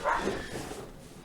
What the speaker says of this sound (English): barking dog in the background